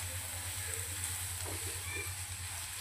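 Soya chilli manchurian frying and being stirred in a pan: continuous bright sizzling with a soft low hum beneath and faint stirring movements, heard alone without talking.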